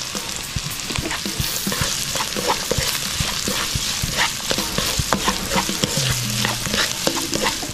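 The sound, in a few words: sautéing garlic, ginger and onion in beef rib fat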